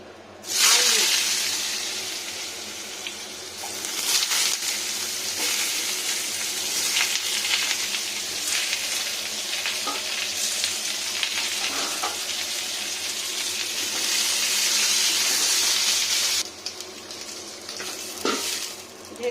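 Potatoes fry with black cumin seeds and bay leaf in hot oil, giving a loud, continuous sizzle that flares as ingredients drop in, with scraping and stirring of a utensil against the pan throughout.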